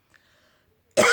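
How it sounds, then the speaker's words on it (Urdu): A woman gives a single sudden, harsh cough right up close after near silence, loud and broad against a quiet background. "وہ تھوڑا مسئلہ ہو جاتا ہے مجھے کھانسی کا"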